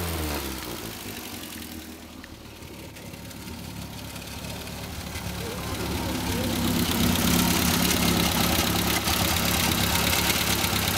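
A Triumph Spitfire with a makeshift air cleaner idles nearby in a steady low rumble that swells a little louder toward the end, with people talking over it.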